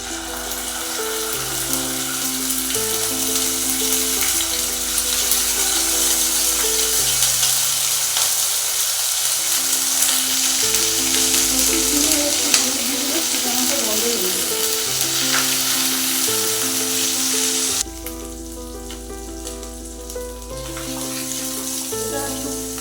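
Bay leaf, asafoetida and ginger fry in oil with a loud, steady sizzle and a dense crackle. Background music plays throughout, and the hiss eases slightly near the end.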